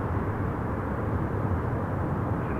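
A heavy EVA Air airliner rolls for departure at Toronto Pearson, its engines a steady, broad, low roar that holds at an even level throughout, with no voices.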